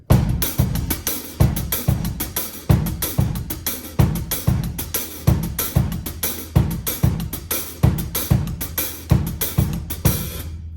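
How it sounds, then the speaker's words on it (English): A drum set plays a calypso groove: a steady, repeating pattern of heavy low drum hits under constant bright hi-hat strokes, loud and continuous throughout with no talking. "The calypso groove sounds like this all together."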